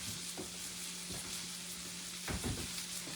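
Chicken livers fry in a skillet with a steady close sizzle and crackle, with a few louder pops and spatters near the end.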